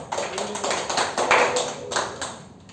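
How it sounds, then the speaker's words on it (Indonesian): A small class gives brief, scattered applause for a student group, a handful of light claps and taps that come in quick bursts and fade within a few seconds. "Kita berikan tepuk tangan bagi kelompok Galih dan ya."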